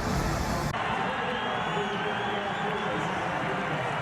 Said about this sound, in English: David Reed, really on his play, has brought the crowd in Salt Lake City to their feet